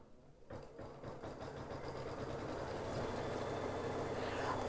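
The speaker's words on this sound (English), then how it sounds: "Go ahead and put it back on the machine and we are ready to stitch the next step." An embroidery sewing machine stitches a mug rug in a steady, rapid mechanical whir with rhythmic needle chatter, starting abruptly after a brief quiet moment and running continuously and close by.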